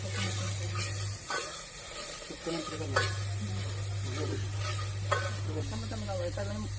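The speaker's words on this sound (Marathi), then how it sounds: "मसाला टाकून तेलात भाजून घेतोय" Spice masala roasting in oil for mutton curry over a wood-fired chulha, with a steady sizzle and repeated scraping, clattering strokes of a spoon stirring the pan, all over a low constant hum.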